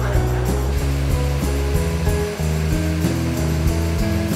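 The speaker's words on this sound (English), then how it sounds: "Waterfall." A waterfall in outdoor nature roars as a dense, continuous rush of water, loud and close, with no voices over it.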